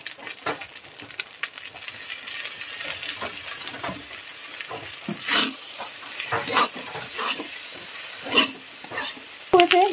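Cooked rice stir-fried with soy sauce in a pan sizzles softly while a utensil repeatedly scrapes and knocks against the metal in uneven strokes, growing a little louder toward the end.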